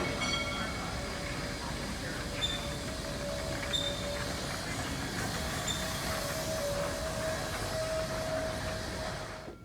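A miniature steam train at a steam museum rolls past at a distance, a soft continuous rumble of wheels on track with faint metallic squeals drifting over it.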